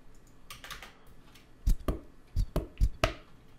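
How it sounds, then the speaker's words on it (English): Sharp plastic clicks and taps from a hand sanitizer bottle, a handful of close, irregular hits with soft rustling between them and no talking. "all kinds of clicks and different sounds that I can get from the bottle"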